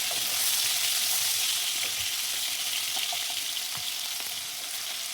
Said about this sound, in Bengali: আলুটাকে একটু ভেজে নেবো এবার